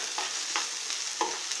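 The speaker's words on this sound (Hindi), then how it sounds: "1 मिनट बाद हम इसमें ये मटर डाल देंगे, अच्छी तरह चलाएंगे।" Boiled peas are stirred into semolina vermicelli sizzling in a pan, with soft repeated spatula scrapes over a steady frying hiss.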